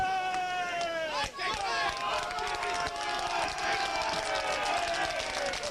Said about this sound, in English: you can hear the appreciative applause from the crowd below us here